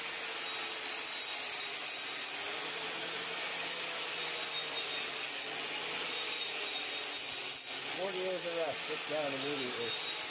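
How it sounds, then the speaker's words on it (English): An angle grinder fitted with a wire wheel strips rust from parts of a $1000 Mazda RX7 during a lowering kit install, a loud, continuous high whine and hiss, with a voice speaking over it near the end. "This type of wire wheel is my new personal favorite."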